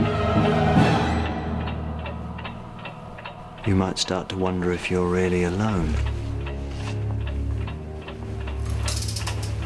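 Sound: clock ticking

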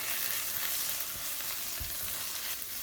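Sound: turmeric, chilli and coriander powder frying with okra

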